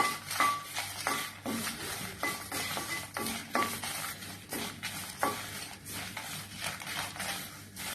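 Dried red chillies and curry leaves are dry-roasted in a pan for idli podi, with repeated scraping strokes of a spoon against the metal and a faint crackle underneath, close and rhythmic, no voices.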